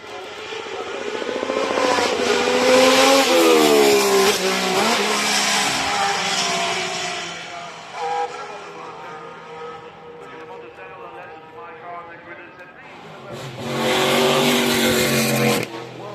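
Ferrari race car climbing the hill at the Goodwood Festival of Speed, a loud engine rising and falling in pitch through gear changes as it passes, with a second burst of engine noise near the end, while people talk over it.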